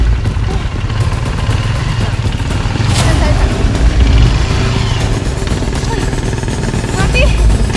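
A motorcycle engine sputters and stalls on a slick, thick-mud village road in Panaan, a loud close rough engine rumble with uneven cutting, mixed with outdoor noise and people talking.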